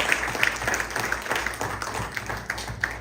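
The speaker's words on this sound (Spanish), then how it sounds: "Dale un fuerte aplauso al Rey de Reyes." Congregation applauding at a Spanish-language church service, a dense wash of clapping with scattered sharper claps and a faint voice or two beneath, steady and fairly close throughout.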